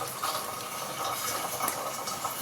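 A pot of water for tea is at a rolling boil, a steady bubbling hiss close by that carries on evenly with no talk over it.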